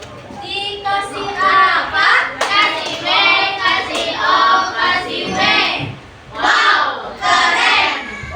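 A fifth-grade class in a school classroom doing a patterned group clap in rhythmic bursts, mixed with children's voices calling out together, close and lively, with short pauses between rounds.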